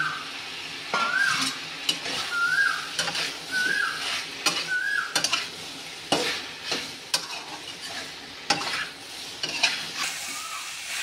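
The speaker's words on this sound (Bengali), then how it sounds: "এবার আমি ভাজা বেগুনটা এর মধ্যে দিয়ে দেবো।" Fried eggplant is stirred into spices frying in a pan, giving a continuous sizzle with repeated scraping and clinking of a utensil against the pan and occasional faint squeaks.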